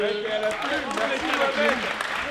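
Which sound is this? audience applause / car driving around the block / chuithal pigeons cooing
audience applause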